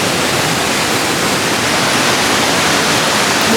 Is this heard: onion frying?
no